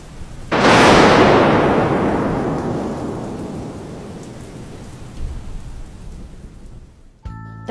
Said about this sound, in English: That one thunder boom last night was insane.